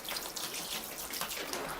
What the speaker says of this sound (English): I'm just going to wash the rocks off a bit more.